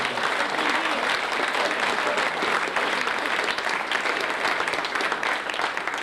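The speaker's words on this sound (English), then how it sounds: "let's give him a big round of applause" Audience applause at a boxing awards night, dense and steady clapping from a large crowd that holds at full strength for several seconds without a break.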